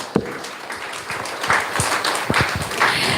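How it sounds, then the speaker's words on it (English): An audience at a devotional guest-speaker gathering breaks into applause, a dense crackle of many hands clapping steadily and fairly close for a few seconds, with no one talking over it. "So let's give them another round of applause."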